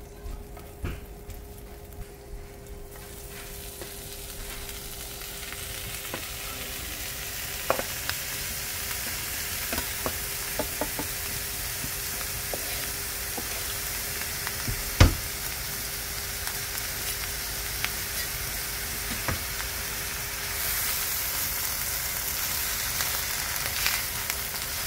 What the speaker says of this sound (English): I'm going to cook these for about 15 minutes.